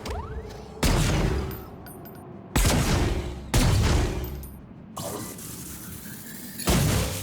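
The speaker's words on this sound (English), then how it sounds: "high explosive impact detonations, an extremely effective room clearing device" Heavy high-explosive impact detonations from a weapon in the video game Necromunda: Hired Gun go off in about five loud booming blasts, each followed by a rumbling decay, spaced roughly a second or two apart.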